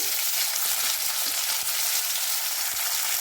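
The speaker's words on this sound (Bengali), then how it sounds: "2-3 মিনিট নাড়াচাড়া করে ভেজে নেব।" Chopped onion and tomato fry in hot oil with black cumin and salt in a pan, giving a steady close sizzle with a few soft stirring knocks, continuous and with no talk.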